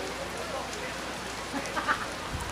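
Steady rain falls outdoors at a FootGolf championship course in Acapulco, a dense even hiss of drops on surfaces, fairly faint, with a couple of slightly louder spatters near the end.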